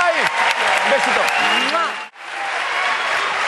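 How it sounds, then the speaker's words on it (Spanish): Studio audience applause on a Spanish TV talent gala, loud broadband clapping with whoops and cheering over a host's voice, cutting out briefly before swelling back as sustained clapping. "¡Aplaudamos como se merece a Victoria Sursinay!"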